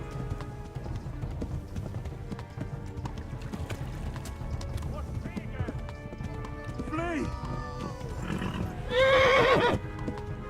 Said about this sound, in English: El caballo me va a tirar ya, tío.